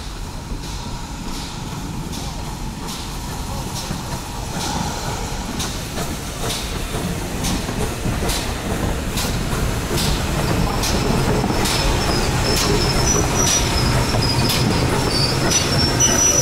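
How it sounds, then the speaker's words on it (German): A train pulls into a station with a rising rumble, rhythmic clatter of wheels over rail joints and a high wheel squeal growing louder toward the end, with no talking. "Ah, das muss der Zug sein."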